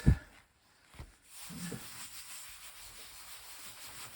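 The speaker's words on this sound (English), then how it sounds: "I can turn it over and give it a good rub" A hand firmly rubbing a glued fabric piece on a craft project, a short sharp knock then soft scraping strokes that settle into steady, quiet friction, close and alone.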